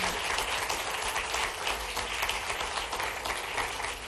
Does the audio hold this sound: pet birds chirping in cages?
no